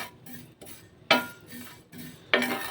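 Fennel seeds roasting in a pan over a slow flame, turned with a spoon: a few distinct scraping strokes against the pan, close and fairly quiet, with short pauses between them.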